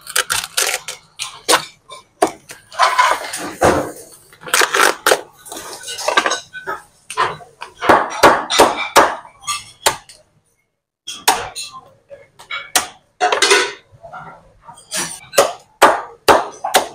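A cooked lobster is cut up with loud, sharp cracking and knife strikes on a board. Bursts of crunching and scraping are separated by brief pauses, and the sound is close and forceful.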